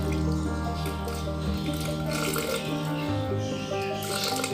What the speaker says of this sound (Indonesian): Kita pakai setengah gelas aja airnya